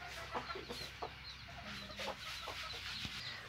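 Hens cluck softly in a backyard setting where a hen has just hatched chicks, scattered short clucks and peeps at moderate distance over a faint hiss of background noise, with no voices.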